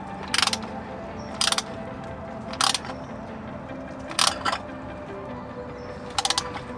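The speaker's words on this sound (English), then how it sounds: "Now I'm actually going to go back to using this other oil filter wrench socket to tighten it" Ratchet with an oil filter wrench socket snugging the oil filter on a 2.0L turbo Jeep JL, heard as five or six short bursts of clicking spaced about a second apart over a steady background hum.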